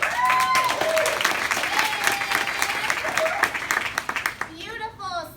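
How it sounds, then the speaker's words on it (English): Audience members at a meal prep and recipes session clap for themselves, steady mixed clapping from a group with a few distinct hand claps near the end, plus a voice and brief musical tones in the background. "clap for yourself"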